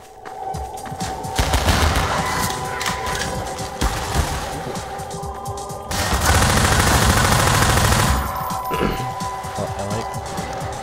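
Sustained SMG fire in the video game Half-Life 2, a dense run of rapid shots with game background sound, loudest in two long bursts with brief gaps between them.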